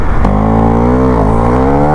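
A car passes on the road, heard from a moving motorcycle: a steady, loud engine drone with a slight dip in pitch midway as it goes by.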